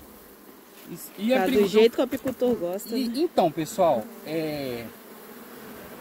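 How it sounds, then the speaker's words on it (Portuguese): Honey bees buzz steadily around an open hive box during a transfer from a Palmer-method setup into a standard hive, the hum running under a man's Portuguese speech throughout. "Tem bastante abelha. Muita abelha trabalhando."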